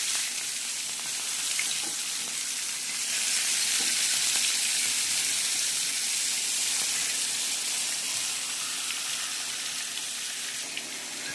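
Grass carp pieces coated in turmeric and salt fry in hot oil, a loud continuous sizzle and spatter that holds steady for over ten seconds, close and alone.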